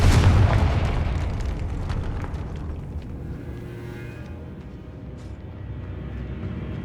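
A Confringo fire spell explodes in the Hogwarts Legacy video game, opening with a heavy close boom that decays into a long, gradually fading rumble.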